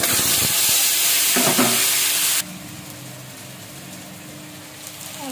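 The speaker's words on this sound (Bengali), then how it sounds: "এই যে আলু আর বেগুন, আলুগুলো আমি আগে ভাজা করে নেব।" Potatoes fry in hot oil with cumin and bay leaf, a loud hissing sizzle that drops abruptly to a quieter, steady bubbling fry partway through.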